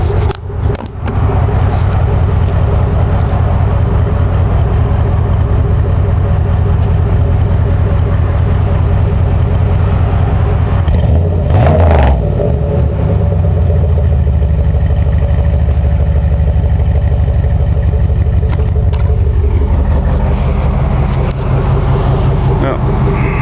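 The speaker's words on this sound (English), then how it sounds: "I'll leave the camera back here and give it a little rev." A 2005 Pontiac Grand Prix GXP with a custom exhaust runs steadily close by, its deep idle swelling into a brief rev near the middle before settling back to a rumbling idle.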